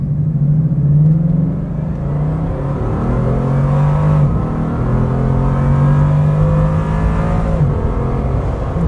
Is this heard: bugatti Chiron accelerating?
yes